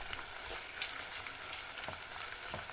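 Meat with onions frying in a pan as pepper paste goes in, a soft continuous sizzle with faint crackles and a few stirring scrapes, quiet and close.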